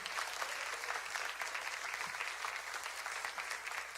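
A church congregation claps for the Lord after a sermon passage, a fairly soft, even spread of many hands clapping at a distance without speech.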